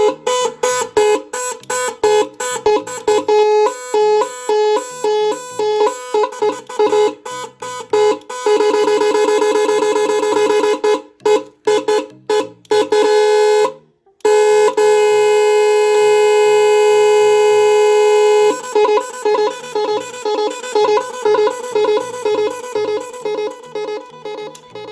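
An LED music horn with 18 different sounds, fitted to a Splendor Plus motorcycle, plays a loud run of electronic siren- and alarm-like tones, switching between different patterns with brief gaps, with no talk over it.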